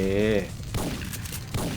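Gunfire in the video game Syphon Filter, a few sharp shots and bursts following a brief tonal sound, with talk over parts of it.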